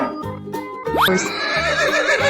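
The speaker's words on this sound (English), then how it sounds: "Horse." A single horse gives a loud, rising whinny partway through, close and clear over light background music.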